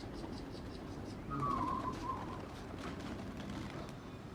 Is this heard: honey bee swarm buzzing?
no